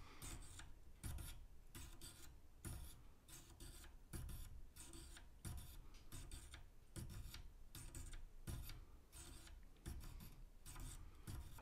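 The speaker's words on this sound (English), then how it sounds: "now let's slide the fader control back and forth to try to work that solution" The slide fader of a Kenwood KA-76 amplifier is pushed back and forth over and over, giving a steady, close scraping rasp with regular strokes, each about half a second long.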